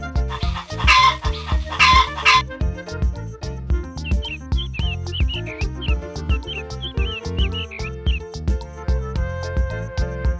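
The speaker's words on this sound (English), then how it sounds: "Cluck, cluck! Chickens are the farm's feathered alarm clocks, waking everyone up with their cheerful morning calls" Farm chickens clucking repeatedly in a busy, rhythmic series, with a brief rooster-like burst early and quick chirping calls mixed in, close and fairly loud throughout.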